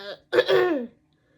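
A single rough, throat-clearing cough, close and fairly loud, preceded by a brief faint vocal sound.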